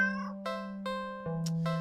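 A cartoonish cat meows repeatedly in the horror game Do Not Take This Cat Home, giving about five close, clear mews over a steady low electronic hum.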